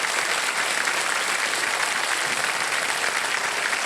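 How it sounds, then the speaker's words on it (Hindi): Studio audience applause on a Hindi TV quiz show, KBC, a dense, steady wash of clapping at close range, filling the whole stretch without pause. "तालियां बजती रहे देनी चाहिए।"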